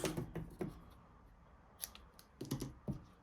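Scissors snip through a folded metallic ribbon while crafting a stamped card, giving a few quick, close, crisp cuts in small clusters with quiet pauses between.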